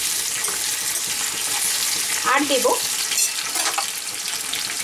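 Tomato goes into onions frying in oil for a chicken dish, giving a constant loud sizzle with a sudden crackling burst and some stirring, close by, while a voice speaks briefly.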